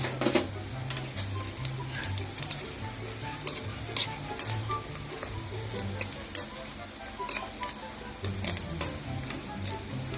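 Pork belly for lechon kawali sizzles and crackles steadily in hot oil, a dense bed of popping and spattering with sharp ticks, while a low hum runs beneath and a voice speaks faintly now and then.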